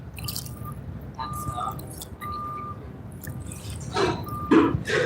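Bait is tossed into fresh water while carp fishing, giving soft drips and a few small splashes and plops, with quieter wet squishing between them against low background noise.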